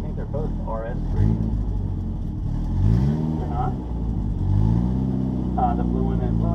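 An Audi S3 driving on a track, engine note rising and falling through shifts as it passes, steady and fairly close, with voices talking over it throughout.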